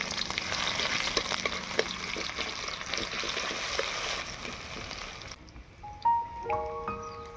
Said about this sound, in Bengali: আদা রসুন পেঁয়াজটাকে লাল লাল করে ভেজে নেব।